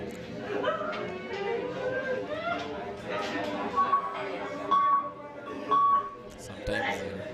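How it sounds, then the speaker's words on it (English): A stop clock at a match between two players beeps three times at roughly one-second intervals. The short, pure tones sound under ongoing crowd chatter and talk. "Sometimes you hear the beep of the stop clock."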